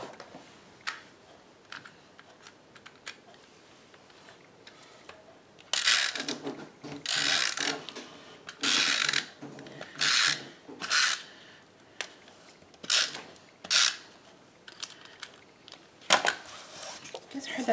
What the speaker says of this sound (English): That's my broken printer coming to life.